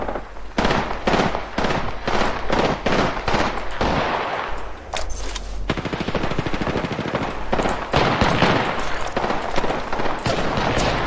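Gunfire in the battle royale video game Apex Legends: loud, rapid evenly spaced shots in a steady volley, then dense continuous automatic fire with a few heavier cracks, close and sustained throughout.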